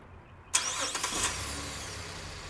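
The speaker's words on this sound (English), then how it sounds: "Let's go ahead and remote start it again." A Buick LaCrosse engine starts by key fob remote start: a sudden crank-and-catch at about half a second, then settles into a steady, fairly quiet idle that runs alone to the end.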